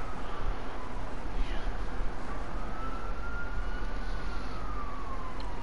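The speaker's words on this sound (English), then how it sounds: "Wouldn't be a street without sirens." A siren wails in the distance over steady street traffic noise, rising and falling faintly without anyone speaking.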